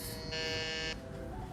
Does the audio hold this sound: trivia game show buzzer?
yes